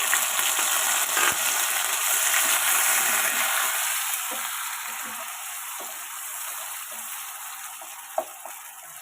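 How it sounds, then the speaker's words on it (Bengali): A paste of ginger, cumin and green chili sizzles and fries in hot oil in a pan, a steady bright hiss that eases slightly over time, with a few soft clinks near the end. "ফোড়ন ভাজা হয়ে গেছে আদা জিরে আর কাঁচা লঙ্কা বাটাটা দিয়ে দেবো"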